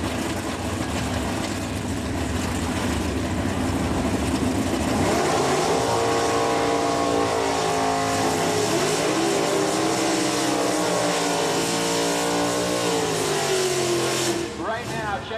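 Two 426 Hemi Mopar drag cars with cast iron heads, cross ram manifolds and dual four-barrel carburetors roar loudly at a drag strip, engine pitch climbing and shifting. An announcer talks over the sustained engine noise throughout.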